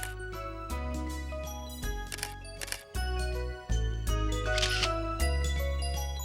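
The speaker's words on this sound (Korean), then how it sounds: "제 머리통보다 큰 카메라를 들고 셔터를 가감하게 잘도 누릅니다." Shutter clicks from a large camera carried on a Himalayan trek from Pokhara to Muktinath in Nepal come as several sharp, separate snaps over steady background music.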